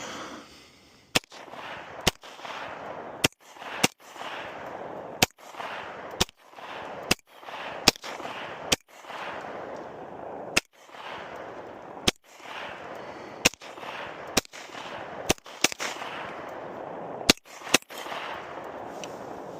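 Pistol shots fired on an outdoor range at 20 yards, about twenty sharp cracks spaced a second or so apart, each with a short echoing tail, no talking.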